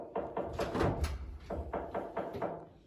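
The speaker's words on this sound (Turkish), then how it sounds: "Birazdan kapı sesi falan yapalım." Door sound effect played as a prank, a series of rapid knocks or thuds repeating about eight times in quick succession, close and fairly loud, with no talk.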